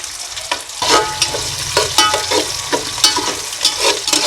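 Mustard seeds and cumin hit a little hot oil for fish curry, crackling and spluttering in loud, uneven bursts over a steady sizzle, close up with no talking.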